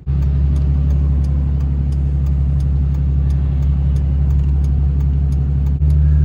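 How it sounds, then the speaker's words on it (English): A John Deere 9RX tractor crosses a bridge, its engine a loud, steady low rumble that holds close throughout, with a brief dip near the end. "there's a giant tractor on the bridge"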